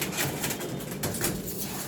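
Racer pigeons perched on a roof cooing softly, a low continuous murmur over faint outdoor background noise.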